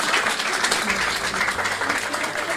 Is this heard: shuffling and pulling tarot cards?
no